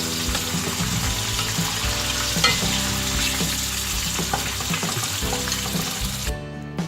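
French fries fry in hot oil while being stirred, a dense continuous sizzle with repeated scraping and clinking of the stirring utensil, close and steady, with no talk.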